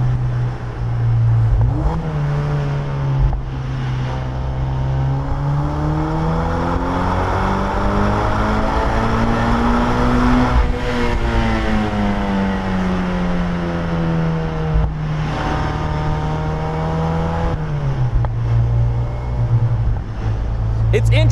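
A Mazda Miata NC fitted with a Flyin' Miata aftermarket exhaust drones steadily, then climbs smoothly in pitch as the engine revs up and eases back down, loud and close with a mellow, subtle tone.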